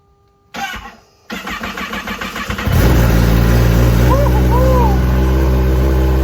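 A 2021 Kawasaki ZX-10R motorcycle with open exhaust cranks briefly on a cold start, catches, then settles into a loud, steady rumbling idle with a raw, throaty exhaust tone close by.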